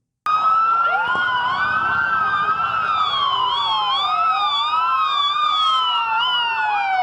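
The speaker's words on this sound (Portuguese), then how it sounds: "Você está vendo aí os carros do Corpo de Bombeiros, eles estão se dirigindo às Torres Gêmeas." Fire engines in New York heading to the Twin Towers: several loud wailing sirens rise and fall continuously, overlapping one another at close range.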